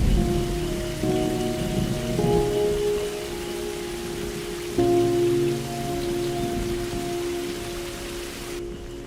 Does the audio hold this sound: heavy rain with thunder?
yes